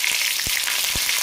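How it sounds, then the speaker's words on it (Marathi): Ginger garlic paste frying in a couple of spoonfuls of hot oil, a dense continuous sizzle with a few soft spatula taps, close and alone. "मी याच्यात 2 चमचे तेल टाकलेलं आहे आणि थोडंसं अद्रक लसूण पेस्ट टाकली"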